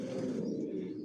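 Johnson silver racer pigeons coo softly in a loft, a short low murmuring call held close and steady.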